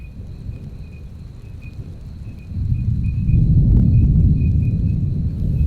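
Thunder rolls during a rainstorm as a low rumble that swells midway and stays loud, with a faint steady high tone running above it.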